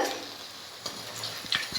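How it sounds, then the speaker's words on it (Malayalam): A soft, steady sizzle of chicken frying crisp in hot oil for dragon chicken, with a few light scrapes of a utensil near the end, quiet and close. "ബാക്കിയുള്ളത് കൂടി നമുക്ക് ഇതുപോലെ ഒന്ന് വറുത്തെടുക്കാം."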